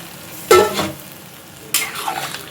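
Water hits fried vegetables seasoned with turmeric in a hot pan, two sharp hissing bursts rising and fading as the mix is stirred, close and loud with no talk.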